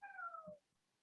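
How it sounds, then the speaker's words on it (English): A cat meows once, a clear, falling, slightly plaintive call lasting about half a second, close and fairly quiet, followed by near silence. "Sounds like a cat is asking you something."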